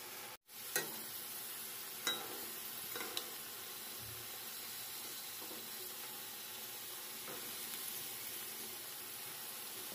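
Thick-cut potato pieces fry quietly in a pan, giving a faint, even sizzle with a few soft clicks of a utensil now and then.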